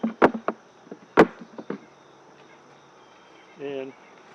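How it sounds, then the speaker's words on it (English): A short honey bee buzz from inside a backyard apiary hive rises near the end, following several sharp knocks and wooden clatters. People talk faintly in the background. "the hive's waking up a little bit. I can hear them buzzing in there."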